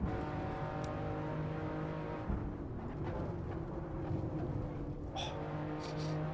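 A BMW M4 CSL at full throttle on the Nordschleife, the engine droning steadily from inside the cabin with a brief dip as it shifts into the next gear, then pulling on.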